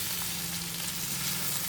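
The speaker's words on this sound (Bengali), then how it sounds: "তা আলু ভাজা বসিয়েছি।" Potatoes fry in a pan with a steady, dense sizzle that stays loud and even throughout, and no one speaks.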